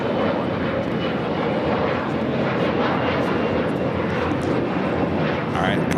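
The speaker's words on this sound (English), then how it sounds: "777 freighter will now cross over 25 right." A Boeing 777 freighter jet taxis across a runway at LAX, a steady, loud broadband engine roar that holds throughout, with faint radio-style speech mixed underneath.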